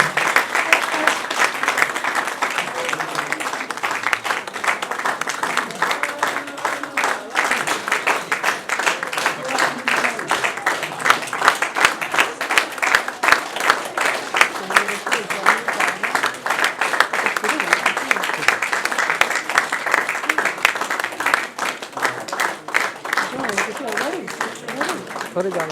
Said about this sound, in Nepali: तालीले स्वीकारोक्ति जनाइदिन अनुरोध गर्दछु